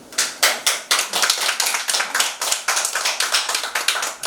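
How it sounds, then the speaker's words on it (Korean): A crowd claps steadily and loudly, a dense patter of many hands with a few stronger accents, no voices. "박수."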